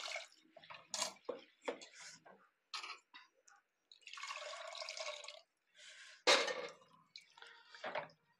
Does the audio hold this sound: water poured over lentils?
yes